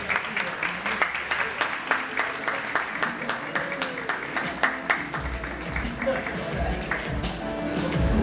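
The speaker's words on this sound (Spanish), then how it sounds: "Un fuerte aplauso para ella." An audience applauds a pageant contestant at a Cinderella beauty pageant in Ensenada, a sustained, crowded round of clapping with a low murmur and rumble underneath, building slightly louder toward the end.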